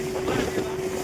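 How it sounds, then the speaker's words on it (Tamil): A small boat moves across the water nearby, its steady motor hum holding a constant tone under wind noise through a short stretch. "எட்டாவில் பார்த்தீங்கன்னா ஒரு குட்டி போட்டு வந்துட்டு இருக்கு பாருங்க"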